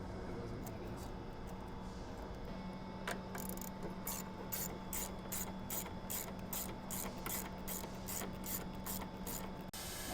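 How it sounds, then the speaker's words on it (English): A ratchet clicks in rapid repeated bursts while tightening hose clamps on a cold air intake for a 2012-2018 Jeep Wrangler JK 3.6L. The sound is close and steady against low background noise. "We'll tighten down these hose clamps, slide this hose on, tighten down this hose clamp"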